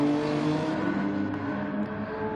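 A Porsche race car in Gran Turismo 7 racing at Sardegna, engine revving hard and steadily with a sustained, tonal whine that holds loud throughout, heard alone without commentary.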